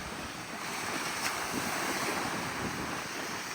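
Ocean breeze and surf at Blowing Rocks, Florida: a steady broadband rush of waves mixed with wind buffeting the microphone, constant and fairly loud, without talk.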